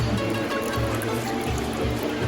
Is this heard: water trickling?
yes